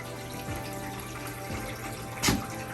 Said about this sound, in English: You actually get to see water coming down the roof.